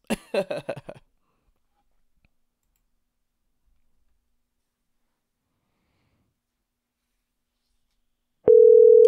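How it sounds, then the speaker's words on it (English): A steady electronic telephone ringing tone begins abruptly near the end after a long silence, loud and continuous, following a brief burst of clicking at the start. "Oh, we hear some ringing."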